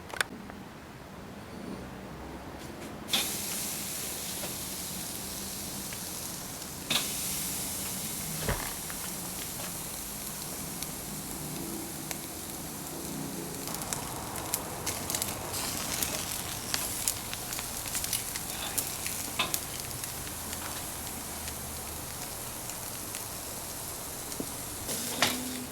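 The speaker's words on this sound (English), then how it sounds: "And now the coals are about ready to sear the steak on both sides" A steak searing over hot coals on a grill, a dense steady crackle and hiss with scattered pops and snaps, close and continuous throughout.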